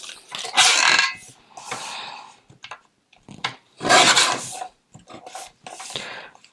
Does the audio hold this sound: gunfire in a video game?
no